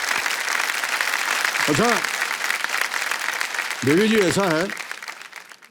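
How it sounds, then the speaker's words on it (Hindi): Studio audience applause on the KBC (Kaun Banega Crorepati) TV quiz show, a steady wash of clapping lasting the whole moment while the host talks over it. "फिर ताली बजवा देते हैं आपको।"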